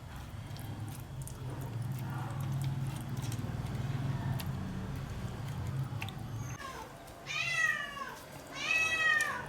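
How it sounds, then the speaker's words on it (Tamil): A house cat drawn to the smell of fish being spiced for a Kerala-style sardine fry meows twice, close and clear, near the end after a stretch of quiet kitchen background hum. "இந்த மீன் வாசத்துக்கு உடனே எங்கள் வீட்டு பூனை வந்துருச்சு."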